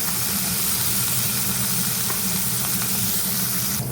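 Bitter gourd fries in oil, giving a loud, steady, close sizzle and hiss that runs without a break.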